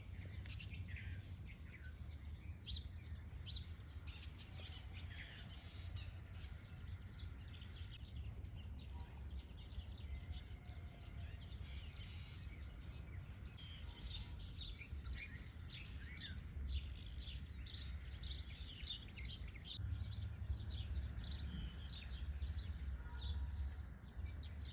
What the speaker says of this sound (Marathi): पक्ष्यांचा, चिमण्यांचा खूप छान आवाज आपल्याला आता सकाळी ऐकायला भेटतो आहे